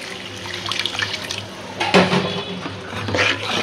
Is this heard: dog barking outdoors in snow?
no